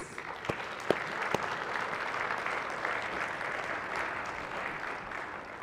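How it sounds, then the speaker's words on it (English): Members in a state Senate chamber give visitors a round of applause, a moderate, somewhat distant patter of clapping with a few sharper individual claps near the start, continuing steadily for several seconds. "if we could all give them a round of applause"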